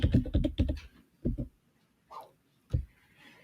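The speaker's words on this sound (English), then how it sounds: "I'll click in the middle of this black area here, and I'll type animated by" Keystrokes on a computer keyboard while entering a credit line in Premiere Pro: a quick burst of close, crisp clicks, then a couple of isolated taps and a short final flurry, alone with no talk.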